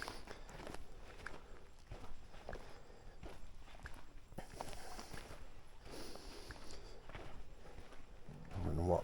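Footsteps crunching through woodland undergrowth at a steady walking pace, close to a chest-mounted camera, with rustling and brushing between steps and a louder scuffle right at the end.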